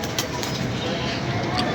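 Pigeons coo softly over a constant broad background hiss in a short, fairly loud stretch, with no clear voices.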